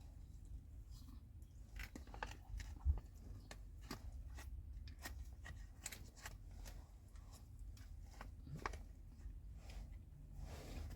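Someone chews humanitarian daily ration food in a quiet room, soft irregular crunches and clicks spaced through the stretch, close and faint.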